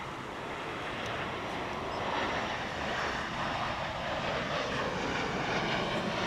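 An airliner arriving at Dallas Fort Worth after a three-hour flight from Seattle gives off a steady, moderately distant engine roar with a wide hiss that holds throughout.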